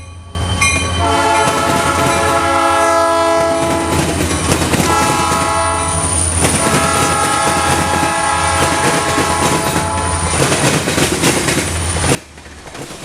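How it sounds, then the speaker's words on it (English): An eastbound freight train led by a Bessemer locomotive passes loud and close in Maryland, with a steady roar of engines and wagons, horn blasts around the middle, and rolling wheel noise until it cuts off near the end. "Our first train is the eastbound from earlier with the Bessemer unit in the lead"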